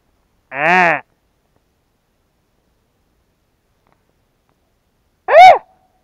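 A goat spotted on a riverside fishing and hunting trip along the Irtysh bleats twice, loud and close, with a short wavering cry followed several seconds later by a higher, sharper one, surrounded by silence.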